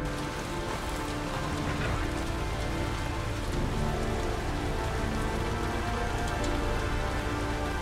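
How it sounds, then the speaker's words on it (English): Steady heavy rain pattering on surfaces in the Heavy Rain video game, a dense continuous hiss of drops with no talk over it. "I assume it's rain."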